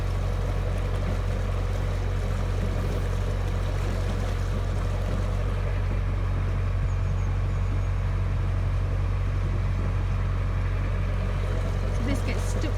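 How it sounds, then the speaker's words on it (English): A canal boat engine runs at high revs on a remote canal, a loud continuous low throb with churning water, steady throughout, while a person talks over it. "so we're sort of on quite high revs and not going anywhere very fast."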